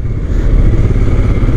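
A cafe racer style motorcycle riding through city traffic, its engine a loud, close, steady rumble with wind buffeting over it.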